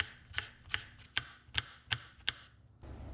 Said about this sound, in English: And now I'll cut across them all